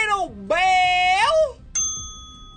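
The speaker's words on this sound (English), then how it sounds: "Hit that little bell!" A bright bell ding rings out alone after a sliding, wailing tone, leaving one clear sustained chime that rings on and fades.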